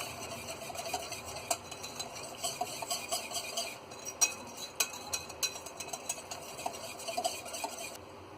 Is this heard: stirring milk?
yes